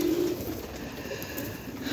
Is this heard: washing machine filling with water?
no